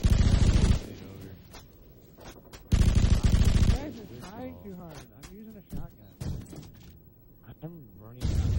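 Video game shotgun blasts: loud broadband bursts, a long roar at the start and another mid-clip, then several sharper shots late on, with speech between and over the firing.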